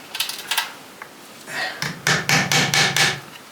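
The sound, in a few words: hammering nails into wooden laths on timber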